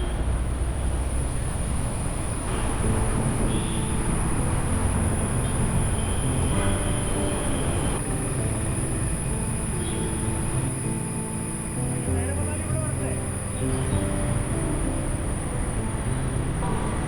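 A Kochi Metro train rumbles past near Vadakkekotta metro station, its wheels and motors giving a steady rolling drone with faint squeals, heard from nearby on the road for the whole stretch.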